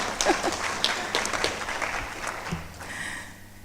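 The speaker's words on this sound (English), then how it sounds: "Please, a round of applause." Applause from a teacher education conference audience, a dense patter of many hands clapping steadily, fading slightly toward the end.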